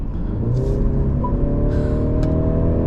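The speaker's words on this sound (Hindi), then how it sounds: "थ्रॉटल एकदम मैं पूरा प्रेस करने जा रहा हूँ" A 2025 Mercedes C300 accelerates at full throttle, heard from inside the cabin as a continuous engine note that climbs steadily in pitch, loud and close with no talking.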